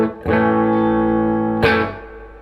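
Two strummed chords ring out on a custom shop Telecaster with Joe Barden Danny Gatton T-style pickups through a Fender Supersonic 22 amp, the first sustaining for over a second before a second strum rings and fades.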